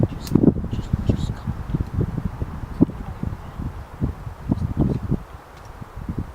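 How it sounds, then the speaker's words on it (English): Strong wind gusts through the leaves of a woodland bushcraft campsite, making a rough, buffeting rustle that surges and eases continuously at close range with no voices. "the wind is mad"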